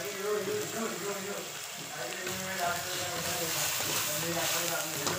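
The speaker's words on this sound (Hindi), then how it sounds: "देखिए अच्छे से फ्राई किया जा रहा है।" Tomatoes sizzle and fry in a pan over a medium gas flame while masala cooks, a steady hiss running evenly throughout at close range.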